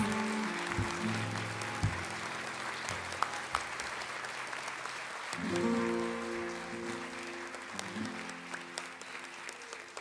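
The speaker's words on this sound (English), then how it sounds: "Let's give them a round of applause for their bronze medals" Continuous audience applause for bronze medalists at the Great American Think-Off, steady clapping with a few sharper claps, over a faint background tone with musical notes.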